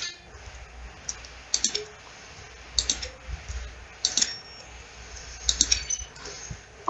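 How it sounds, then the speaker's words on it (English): Button presses in The Stanley Parable, each a blend of a keyboard keystroke and a short synthesized tone, repeating at steady intervals over a low background hum with no talking. "Each sound is a mix of keyboard strokes and synthesized tone."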